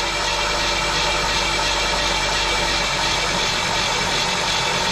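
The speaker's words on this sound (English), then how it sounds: "we can now spin the motor over easy. We'll do this a little bit, build some oil pressure." A 1939 Pontiac Coupe engine, sitting unused for 46 years, spins over continuously with a dense, loud, unbroken mechanical whir and rattle, no talking over it.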